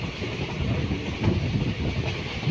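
A train running along the line just after leaving Shivamogga station heads toward Talaguppa, with a steady loud rumble and rhythmic clickety-clack of wagons over the rails, continuous and close throughout.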